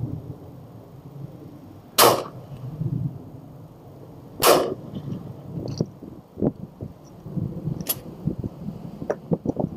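Shotgun blasts while hunting: three loud, sharp bangs spaced a few seconds apart outdoors, with softer clicks and rustling between them.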